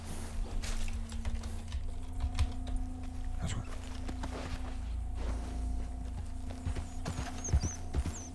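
Horse hooves clip-clop steadily in the Western video game Red Dead Redemption, a continuous rhythmic patter at moderate level over a low ambient hum, with no voices present.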